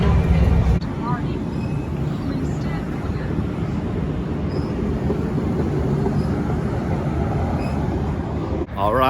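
Sacramento RT light rail train, a steady rolling rumble with rail noise sustained throughout, mixed with some talk.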